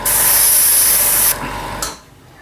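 Close, loud steady hiss of a spray gun applying colour paint to the underside of a boat, lasting just over a second, followed by a quieter sputter and a short final burst before it cuts off.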